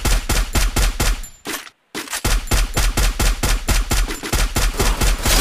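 Rapid automatic gunfire from a battle royale shooter game, a dense run of loud, evenly spaced shots with one brief pause before the burst resumes, and no talking over it.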